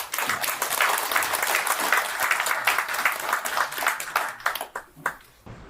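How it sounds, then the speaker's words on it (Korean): Audience applause after a lecturer is introduced at a book launch event, steady clapping from a crowd for about five seconds, thinning out and ending with a few scattered claps. "큰 박수 부탁드립니다."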